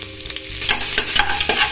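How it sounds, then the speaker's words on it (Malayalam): Crushed ginger and garlic paste hits hot oil in a pan for a no-onion vegetable pulao, giving a close, steady sizzle with scraping stirs. "നമുക്കിനി ചതച്ച് വച്ചിരിക്കുന്ന ഇഞ്ചിയുടെയും വെളുത്തുള്ളിയുടെയും കൂട്ട് ഇട്ട് കൊടുക്കാം."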